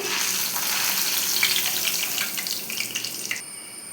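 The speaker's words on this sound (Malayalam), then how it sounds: "ഇനി നമ്മൾ കുറച്ച് എള്ളും കൂടെ വറുത്തെടുക്കുവാണേ" Steady crackling sizzle of sesame seeds dry roasting in a hot pan, close and continuous, with no talking.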